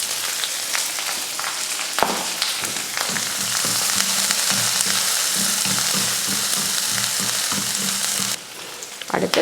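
Sliced large onion, curry leaves and green chilli sizzle hard in hot oil with popped mustard seeds in a kadai, a loud steady crackle with occasional stirring scrapes, close and without talk.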